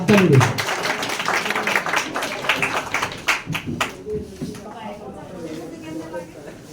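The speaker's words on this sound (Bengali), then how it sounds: "আমরা হাততালি দিই।" An audience claps at an award ceremony as a fifth-place team is honoured: a brisk burst of many hands fills the first few seconds, then thins out while talking carries on.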